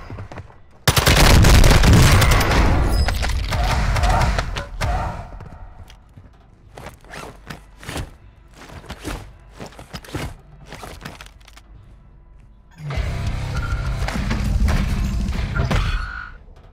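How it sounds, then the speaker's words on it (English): Mortar strike explosions boom in Call of Duty Warzone 2, a heavy roaring blast that rumbles for several seconds, then scattered sharp shots and crackles, and another sustained rumbling barrage near the end. "Hostiles launched a mortar strike."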